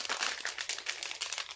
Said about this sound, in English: Oh, so another plastic bag.